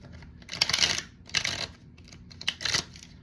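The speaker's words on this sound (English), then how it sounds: "I'm going to give these another little shuffle here" Tarot cards being shuffled by hand, three quick crisp riffling bursts of papery flicks, close and soft, with brief pauses between them.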